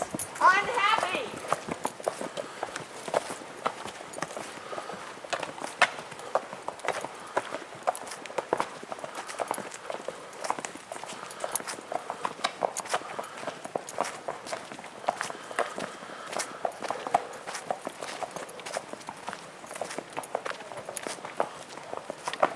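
Horse hooves clip-clopping at a walk on a narrow cliffside trail during a trail ride, an uneven series of close, sharp footfalls continuing throughout, with a rider talking over them.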